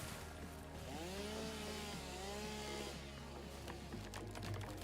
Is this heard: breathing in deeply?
no